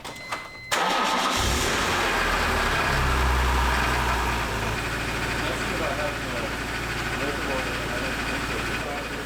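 A BMW E46 M3 engine cranks briefly and catches, then settles into a loud, steady idle close by, with a voice speaking faintly over the running engine.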